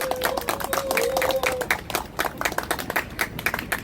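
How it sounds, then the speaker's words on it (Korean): Steady crowd clapping, brisk and fairly close, welcomes a speaker at a Gwanghwamun rally protesting the jailing of a citizen activist, with a brief whistle-like tone early on. "이용진 대표님 큰 박수로 맞이하겠습니다."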